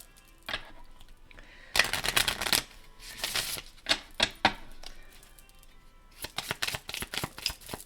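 A deck of oracle cards shuffled by hand, close and clear, with bursts of rapid riffling and slapping alternating with short pauses, and no talking.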